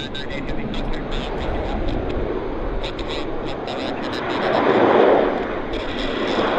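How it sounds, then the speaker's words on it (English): A Bombardier Q400 turboprop airliner lands at Vancouver Airport, a steady broad roar that swells to its loudest a little past the midpoint, with voices heard over it. "And now we've got a Q400 landing very quickly."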